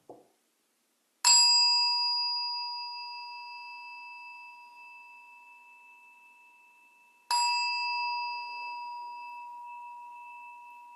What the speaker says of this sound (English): I'll begin by inviting you to just listen to the bell.